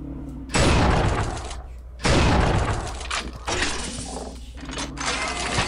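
In the Unreal II: The Awakening video game, alt-fire bolts of five shards from a shard gun slam into walls and break apart: several loud, crackling bursts, each fading before the next shot.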